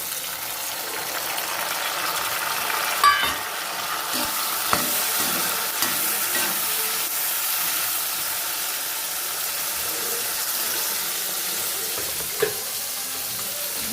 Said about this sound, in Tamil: இப்போ நாம் தக்காளியை போட்டு வதக்கிக்கலாம்